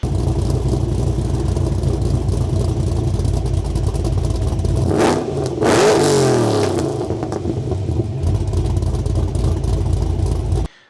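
Supercharged Holden Monaro 5.7-litre V8 with a Harrop 2300 blower and a choppy cam, revving loudly and steadily up close, with a sharp rise and fall in pitch partway through.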